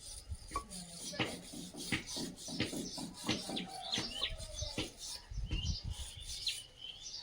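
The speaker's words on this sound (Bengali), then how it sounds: "সুন্দর করে ইটগুলো ঘষে আর এক সাইডে গাছি দিয়ে রাখতে হবে" Bricks are scraped and rubbed by hand in repeated rasping strokes, close and rhythmic, with birds chirping in the background at a home construction site.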